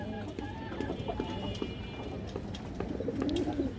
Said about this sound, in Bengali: অনেক সুন্দর একটা মাদি কবুতর মাশাআল্লাহ